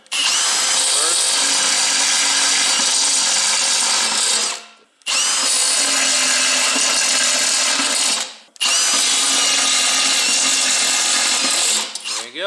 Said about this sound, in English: I love step drills.